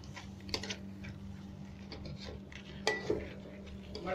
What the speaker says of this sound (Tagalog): Saka stir nyo rin occasionally para hindi masunog yung ilalim.